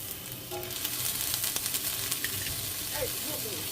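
Kielbasa sausage browns in a hot skillet with a steady, close sizzle and crackle, a few small clinks and stirs rising over the frying noise, no talk.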